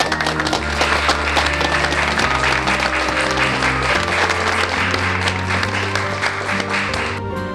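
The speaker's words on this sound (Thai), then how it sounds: "ขอเสียงปรบมือด้วยครับ" Broad audience applause at an awards presentation for a businesswoman of the year, steady and full over a musical fanfare with sustained tones underneath, continuing throughout.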